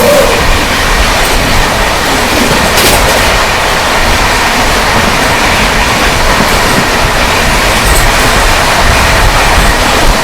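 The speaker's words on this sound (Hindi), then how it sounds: "तो जस्ट अपनी ट्रेन अनाड़ा रेलवे स्टेशन से डिपार्ट ली है।" An LHB-coached Tatanagar-Thawe Express pulls out of Anara railway station at night, heard from inside a 3-tier economy coach: a steady, loud rolling rumble with faint wheel clatter running throughout, no voices.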